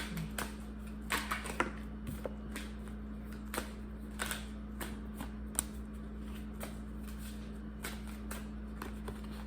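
Tarot cards shuffled by hand in a quiet room, a run of sharp, crisp riffles and taps arriving in uneven bursts over a steady low hum, with no talking.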